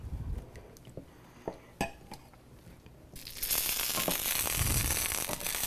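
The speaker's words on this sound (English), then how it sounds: "I'm going to throw in this beautiful balsamic vinegar" Balsamic vinegar hits a pan of sizzling tomato-mascarpone sauce: a few sharp utensil clinks and taps at first, then a sudden, steady loud sizzle and hiss that fills the rest.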